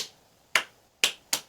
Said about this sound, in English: Now we have to clap 1, 2, 3, 4 times